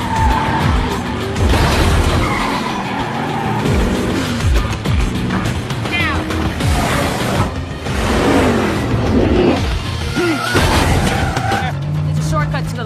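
Race cars in a film race skid with squealing tires and crash into each other, the engines roaring loudly and continuously while a voice narrates over the din.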